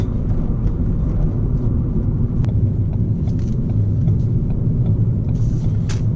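A tuned Ford Fiesta ST engine revs hard as it accelerates up through the gears, a loud, steady, close roar with rising pitch and no talking.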